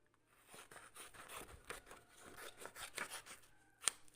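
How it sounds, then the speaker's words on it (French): Scissors snipping through paper cut-out matchstick figures, a quiet close series of crisp cuts and rustles with a sharper snip near the end, no voices. "On va prendre une paire de ciseaux et on va les couper en disant merci."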